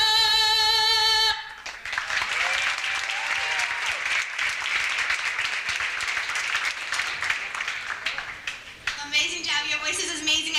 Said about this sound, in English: Can we give a round of applause for both of our singers, please?